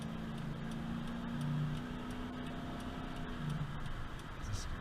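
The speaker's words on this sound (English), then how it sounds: "It's got that nice little deep throttle body V8 sound to it." A 1996 Ford F-150's throttle-body V8 hums low and steady under load, a faint continuous engine drone with light ticking and no talk over it.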